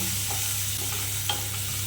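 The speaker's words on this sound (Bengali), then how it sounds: "রসুনটা ভাজা যখন অল্প অল্প হয়ে যাবে একটু একটু লাল লাল হয়ে আসবে" Garlic frying in oil in a pan for potol bharta, a steady close sizzle with a couple of soft stirring scrapes, even and uninterrupted, no speech.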